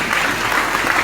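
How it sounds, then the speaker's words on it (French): Church congregation applauding during a worship service, a steady, dense wash of clapping that holds at an even level throughout without breaks. "On nous applaudit, mon Dieu."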